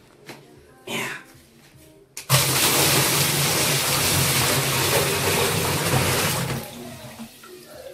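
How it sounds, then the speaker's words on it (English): Water pours into a washing machine being repaired for a drainage fault, a loud, steady rushing gush that starts abruptly after a few quiet knocks and voices and runs for several seconds before easing off. "we have to pour water"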